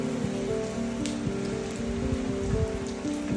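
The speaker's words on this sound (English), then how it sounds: "It appears that the rain is here to stay." Steady rain falls outside a large house, a continuous, even hiss of drops that holds at the same level throughout, with no voices.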